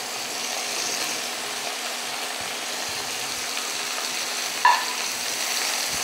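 Okra, onion and potato sizzle in a pan with a loud, steady, close frying hiss that holds evenly throughout, broken once by a brief clink of a utensil near the end, with no talk.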